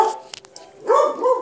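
A dog gives a short bark in the game, a couple of brief clicks followed by one or two close, clear bow-wow barks.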